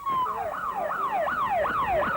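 An ambulance siren wails at a West Bank protest with shootings, rising and falling in quick repeated sweeps, loud and steady, with no voices over it.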